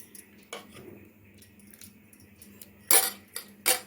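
Pearl millet porridge (kambu koozh) stirred gently in a vessel, with soft scattered clinks of a spoon against the rim and a few louder metallic taps near the end, all close and otherwise quiet.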